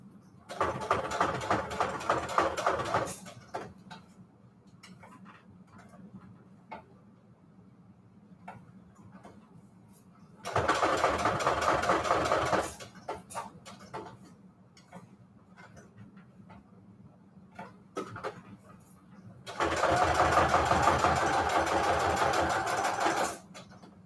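A sewing machine stitches through a die-cut paper tag in three slow bursts of a few seconds each, with quiet pauses and small ticks in between; nobody speaks.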